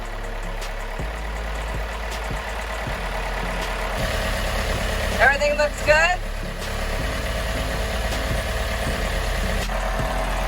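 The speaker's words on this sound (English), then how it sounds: "So let's shut down the engine," A sailboat's engine idling steadily just after being started, a continuous low mechanical rumble at close range, with a brief spoken question and some clatter partway through.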